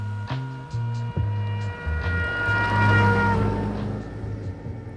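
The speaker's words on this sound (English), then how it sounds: "What you heard there was the famous Doppler effect." Trumpet sounded from a passing car, holding steady notes whose pitch drops as the car goes by, over a loud engine and road rumble, close and without talking.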